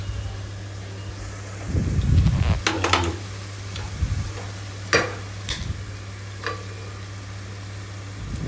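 Eggs frying with spring onions in a pan for an egg curry, a soft steady sizzle broken by louder bursts of stirring and scraping, with a few sharp ticks of the utensil against the pan.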